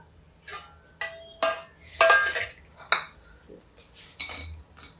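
Clinking and scraping of a utensil against a metal pan in several short bursts as vegetables and spices are tossed and stirred, fairly close and without speech.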